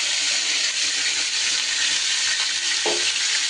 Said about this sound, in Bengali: ঢেকে ঢেকে পটলগুলোকে আমি সুন্দর করে ভেজে নেব।